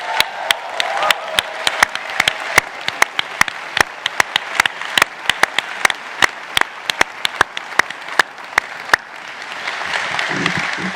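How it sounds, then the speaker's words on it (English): At a Stanford MBA graduation ceremony, the graduating class applauds itself: a broad wash of crowd clapping with sharp, loud individual claps cracking through repeatedly, settling into a murmuring crowd near the end. "It's time to give yourselves a massive round of applause."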